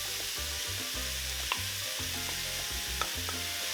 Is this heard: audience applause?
no